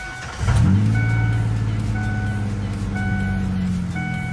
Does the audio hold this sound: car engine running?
yes